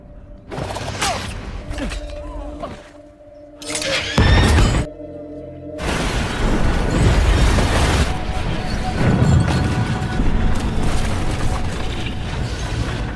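A film's action scene carries explosive booms and crashing debris, loud bursts near the start and around four seconds, then a sustained roar of rumbling noise with music-like tones underneath.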